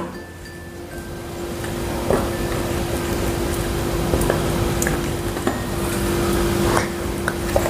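Gram flour batter with ridge gourd and water is mixed by hand, giving soft wet squishing and occasional light clinks against the bowl over a low steady background hum.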